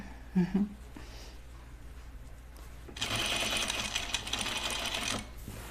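A home sewing machine stitches a hem on a garment, running as a steady, close mechanical whirr for a couple of seconds after a quieter stretch with light handling noise.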